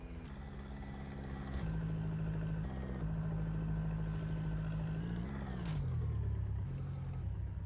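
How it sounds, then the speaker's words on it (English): A steady engine drone from a naval war video game, a sustained low hum that rises slightly in loudness partway through and shifts pitch near the end, with no talk over it. "you can hear the engine over here"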